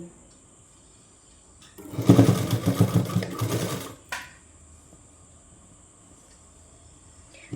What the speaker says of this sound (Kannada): ಈ ಎಡ್ಜಿಗೆ ನಾನು ಮೊದಲು ಸ್ಟಿಚ್ ಹಾಕೋತೀನಿ